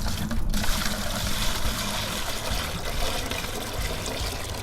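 Muddy clay water pours from one bucket into another, giving a continuous close splashing trickle that holds steady throughout with no talk.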